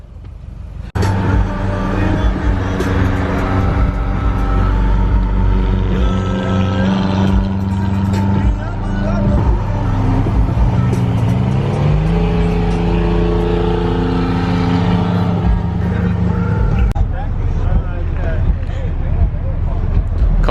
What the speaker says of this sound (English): Cars are still pulling up right now as we speak